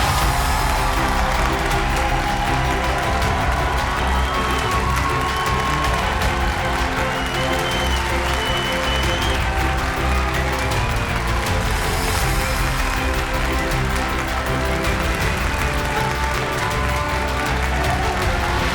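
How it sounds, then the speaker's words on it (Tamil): A full hall of audience applause at a stage event, with continuous dense clapping and some cheering sustained at an even, loud level throughout. "ஒரு அரங்கம் நிறைந்த கைத்தட்டலோடு மேடை கழிக்கின்றோம்"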